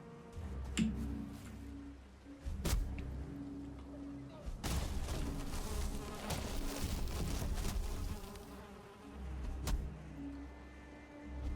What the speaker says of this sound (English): I made my own bees angry.